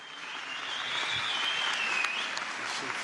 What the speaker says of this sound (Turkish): Ona bir alkışlarınızla sahneye alalım.